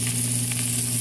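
Stuffed pork cutlets with cornbread sausage stuffing sizzle steadily in a frying pan of hot oil, a close, continuous bright crackle with a low hum underneath and no voices.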